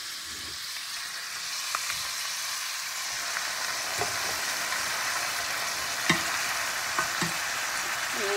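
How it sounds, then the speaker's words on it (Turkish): Green beans fry in a pan with tomatoes just added, giving a steady, even sizzle and hiss, broken by a few soft clicks and stirring knocks. "Domatesi ekleyeceğim şimdi de."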